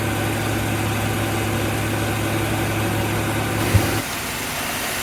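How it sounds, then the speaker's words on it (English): Car engine running at an unusually high idle, a steady loud hum with a constant low tone, a brief knock near the end and a slight drop in level after it. "after a few minutes of idling the vehicle, this vehicle does have a very high idle"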